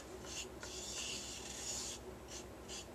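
Dried lavender is stirred and rubbed around a bowl while making Lammas incense, giving soft, continuous scratchy rustling with a few brighter swishes.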